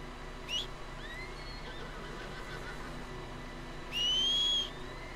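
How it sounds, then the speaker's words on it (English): In Red Dead Redemption 2, a horse gives a short whinny early on, then a longer, louder neigh near the end over quiet outdoor ambience. "Horse."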